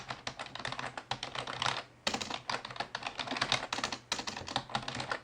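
Thin keys on an ASUS PR1101U keyboard being typed on quickly, a close run of crisp clicks and taps with one brief pause partway through, and no voices.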